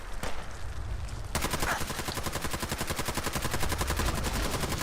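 Gun firing in the video game Fallout 4: after a brief lull, rapid automatic fire starts and runs as a loud, dense, unbroken stream of shots with no talking.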